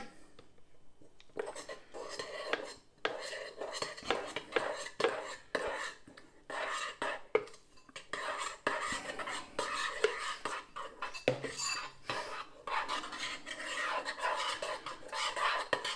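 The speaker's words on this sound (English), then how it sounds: "And the milk and stir away" A spoon stirs Ready Brek porridge oats with milk in a bowl. The scrapes and clinks come in quick, irregular bursts, close and fairly quiet, with no talk.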